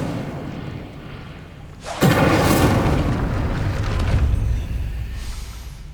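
An Incendio fire spell erupts in Hogwarts Legacy, a sudden loud whooshing roar that bursts in and sustains as a dense crackling rush before easing off, close and alone.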